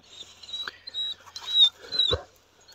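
A dog confronting a porcupine in rural Punjab makes uneasy canine sounds, short whimpering and yipping bursts with a low growl, fairly close and spread across a couple of seconds.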